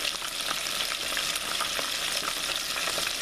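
Close, continuous sizzling and popping of battered pieces deep-frying in hot oil, copycat Long John Silver's style, holding an even, dense crackle throughout.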